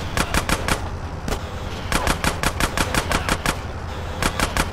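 Rapid bursts of automatic gunfire in GTA San Andreas Definitive Edition, crisp repeated shots in quick clusters with short gaps, loud and close over a steady low game-engine rumble.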